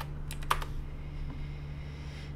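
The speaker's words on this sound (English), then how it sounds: "Just type that in the search bar." A few quick, soft keystrokes tap on a nearby computer keyboard in a short burst, followed by a quiet room hum.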